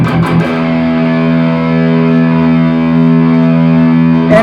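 Distorted electric guitar through a Marshall JCM 800-style 1-watt tube amp, played in thrash metal style, a single chord struck and left to ring out loud and sustained, with a fresh pick attack at the very end.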